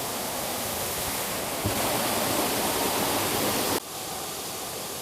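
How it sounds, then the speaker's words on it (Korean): Loud, steady roar of Yeosin Falls, a waterfall with a drop of about 20 metres in a mountain valley, broad and dense, with a brief surge in the middle before settling slightly quieter. "물소리가 크게 들립니다."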